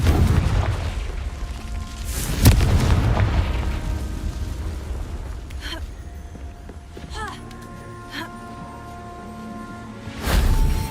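Confringo blasting spell explosions in the video game Hogwarts Legacy produce deep booming bursts with rumbling tails, the loudest early and another near the end, mixed with game sounds and brief speech.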